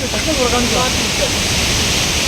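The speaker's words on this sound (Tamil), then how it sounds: "இப்போ வந்துட்டு நம்ம அந்த லக்கம் வாட்டர் ஃபால்ஸுக்கு வந்துட்டு பக்கத்தில் போயிட்டுருக்கோம்" Lakkam waterfalls in Munnar, Kerala roar as a steady, broadband rush of falling water heard close by, loud and continuous with no pauses.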